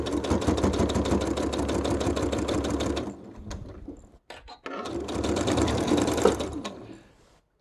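A sewing machine runs in two close, steady bursts, back stitching elastic onto a fabric face mask, with a short pause of clicks and handling between them.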